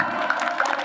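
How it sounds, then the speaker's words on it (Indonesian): Audience applause at a community fast-breaking gathering: a short burst of steady, dense clapping from a crowd, moderately loud with no talking over it. "tepuk tangan untuk semua"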